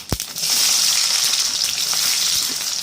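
Chopped onions drop into hot oil with mustard seeds and fenugreek for a sardine fish curry, a thump followed by a loud, close, sustained sizzle with a few crackles, no speech.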